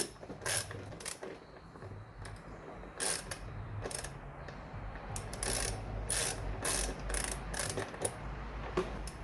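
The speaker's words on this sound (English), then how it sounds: "Using two 13mm sockets, we're gonna put that one on" A ratchet with 13mm sockets tightening bolts on a Suzuki Sport armrest in a Suzuki Swift ZC31S, giving bursts of rapid clicking pawl strokes in an uneven rhythm, close and clear with no talk.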